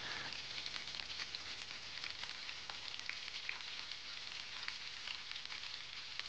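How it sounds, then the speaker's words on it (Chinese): Thin slices of pork fat coated in batter deep-frying in hot oil, giving a steady, dense sizzle with small crackles and pops that continue evenly throughout. "下锅油炸，炸至金黄。"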